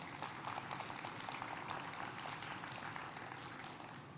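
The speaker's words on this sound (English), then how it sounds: "Can we please give them a round of applause?" A conference audience at a higher education summit claps for the QS team, a steady, full wash of applause heard at an even level throughout, with no speech over it.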